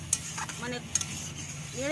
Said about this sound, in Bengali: পেঁয়াজ বেশি ভাজার দরকার নেই, খুব অল্প সময় তেলের মধ্যে নেড়ে